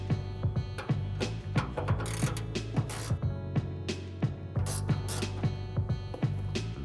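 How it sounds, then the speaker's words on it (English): A 10mm wrench loosens the lower headlight bolt on a 2007-2014 GMC Yukon XL, giving a close, fast series of crisp ratcheting clicks and metallic ticks with brief pauses, and no talking. "using your 10mm wrench, you're going to loosen this bottom bolt that's securing the bottom of the headlight"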